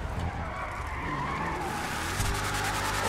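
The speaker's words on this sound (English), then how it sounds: "Oh my god, I really love burning out his car, and also the turbo and the valve sound is super great." A modified Mitsubishi Lancer Evo in GTA 5 does a burnout, with a sustained, loud tire squeal and skid over a rumbling engine that rises near the end.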